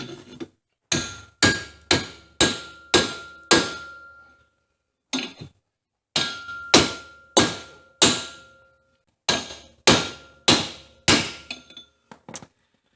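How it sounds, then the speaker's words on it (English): Loud metallic hammer blows on a punch knock tight bearings out of a Honda Recon rear differential, striking in quick bursts of four or five, each ringing briefly, with short pauses between groups and a couple of lighter taps at the end. "go on the back side, and hit it out with a hammer."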